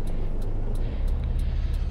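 A car driving past in the video game American Truck Simulator: a low, steady engine rumble close by, with a faint repeating tick on top and no talk.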